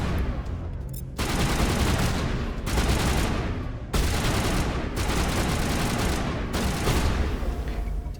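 Sustained turret gunfire in Mass Effect 1, loud dense bursts of rapid shots in several long volleys separated by brief pauses.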